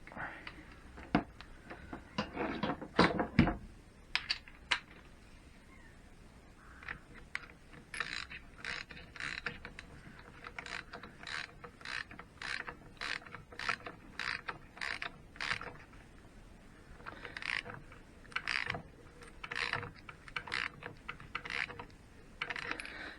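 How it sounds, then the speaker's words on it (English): A new locking nut is wound onto the thread of a Triumph Bonneville's primary drive, giving a long run of light metallic clicks and ratcheting ticks in irregular bursts, close and fairly quiet. "new locking nut, which is the correct thread. Right, let's just wind it in a little bit."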